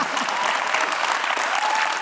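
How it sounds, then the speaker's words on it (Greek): An audience at a live show claps for someone who has brought cake, a dense, steady burst of applause filling the room, loud and close, with a faint murmur of voices underneath. "Οπότε ένα χειροκρότημα για αυτόν που έφερε το κέικ."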